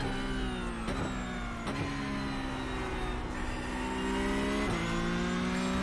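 A Porsche Cup race car engine screams under load at Watkins Glen in iRacing, its loud, sustained whine rising through the revs with several sharp gear-shift dips, close and continuous without any voices.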